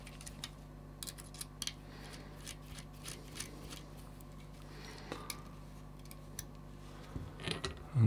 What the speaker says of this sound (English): and then you remove this bolt.